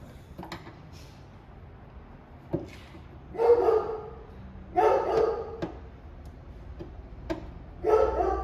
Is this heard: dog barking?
yes